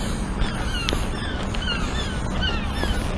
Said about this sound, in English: a crow's going ha ha ha ha repeatedly in this pattern